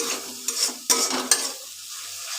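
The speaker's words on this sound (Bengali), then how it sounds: "এবার আমি মশলাটাকে ভালো করে কষিয়ে নেব।" Spice paste stir-fried in a pan, with a close sizzle broken by three sharp scraping strokes of a spatula, then a softer fading hiss; no talking.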